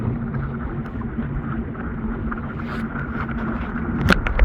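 Strong wind roars on a boat travelling from Lake St. Clair to Harrisville harbor, Michigan: a loud, constant, low buffeting rumble with a few sharper gusts near the end.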